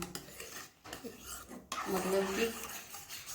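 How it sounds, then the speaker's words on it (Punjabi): A spoon scrapes and clinks in a pan as chocolate syrup is stirred together with cocoa powder, a few short metallic taps and rubs heard close up and fairly quiet. "ਚੰਗੀ ਤਰ੍ਹਾਂ ਦੇ ਨਾਲ ਮਿਕਸ ਕਰਦੇ ਰਹਿਣਾ ਇਹਨੂੰ"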